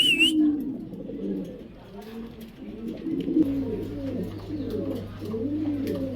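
Imported pigeons from Dubai coo in repeated, rolling calls at close range, with several birds overlapping in a steady, layered murmur and a low hum in the background.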